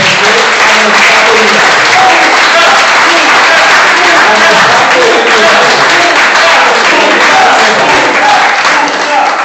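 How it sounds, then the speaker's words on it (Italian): Loud, sustained applause fills a festive party crowd in Trieste, dense clapping running steadily without pause throughout, with voices mixed into the noise. "un grande applauso a loro"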